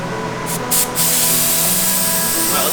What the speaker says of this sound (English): So we're gonna do a second coat, lay it on thick, and it'll be good to go.